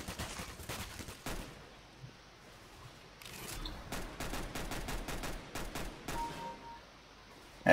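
Sharp gunshots crack in bursts in Counter-Strike: Global Offensive, some single and some in quick clusters, fairly faint with quiet gaps between volleys.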